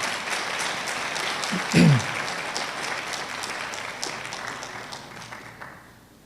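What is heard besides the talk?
congregation applauding in church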